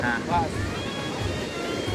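Monsoon-season sea surf at a beach, a steady broadband roar of waves with wind buffeting the microphone and brief voices over it.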